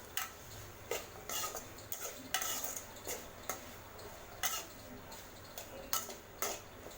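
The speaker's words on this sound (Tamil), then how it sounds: "இப்போ இது எல்லாத்தையும் நல்லா மிக்ஸ் பண்ணி விடுங்க." A spoon scrapes and taps through brinjal and black chickpeas in a pan, giving a steady, evenly spaced series of sharp clicks about once a second. The strokes are close and fairly quiet, with no talking.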